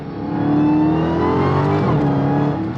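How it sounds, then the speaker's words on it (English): A 797 hp Dodge Charger Hellcat Redeye with a ZF 8-speed and paddle shifters roars loudly up close as it downshifts, its engine note sweeping and blipping through pitch changes over a sustained heavy drone. "Let's give it a couple downshifts. Let's see what the paddle shifters can do."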